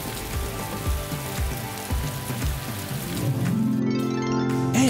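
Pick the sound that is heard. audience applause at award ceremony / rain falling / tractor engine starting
rain falling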